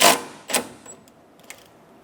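A ratchet with a 10mm socket snugging down an AC condenser bolt on a 2012-2016 Subaru Impreza, giving a few sharp, close clicks spaced apart in a quiet setting.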